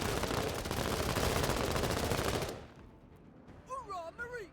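Dense, loud automatic machine-gun fire from the video game Menace rattles continuously for a few seconds, then cuts off into quieter game sounds with a voice speaking briefly.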